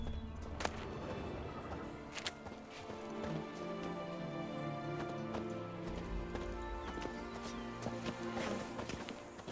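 Horse hooves clip-clopping at a steady pace across ground in The Witcher 3, a close rhythmic beat over an ambient music bed, with a faint whinny partway through.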